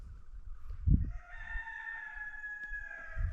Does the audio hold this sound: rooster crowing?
yes